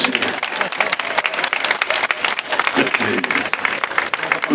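An audience at a comedy show in Marseille claps and applauds loudly and steadily, with voices mixed into the ovation.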